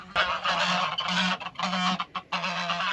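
A goose honks loudly and repeatedly while eating salad of lettuce, carrots, cucumbers and tomatoes, giving a series of close, harsh, nasal honks in quick bursts with brief gaps and no talking.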